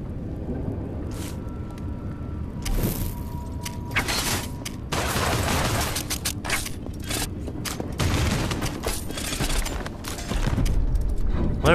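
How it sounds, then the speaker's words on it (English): Enemies firing in the VR action game Hellsweeper VR, scattered bursts of shots and booming impacts amid mechanical noise, irregular and moderately loud over nearly twelve seconds. "Whoa, they're shooting at me."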